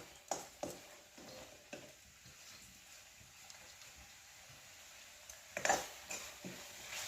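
Tender peeled cashew nuts stirred and sautéing in a Malvani masala paste in a Konkan kitchen, with soft sizzling and intermittent spoon scrapes and clacks against the pan.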